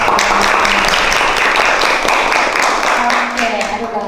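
Audience applause at a public speaking workshop at a school in Cirebon: a loud, dense, steady clatter of many hands clapping close by for several seconds, with voices talking under it.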